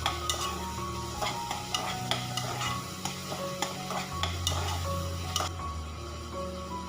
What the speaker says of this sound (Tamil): நல்லா எல்லாமே வந்து நல்லா மேஷ் ஆகிற அளவுக்கு வதக்கி விடுங்க.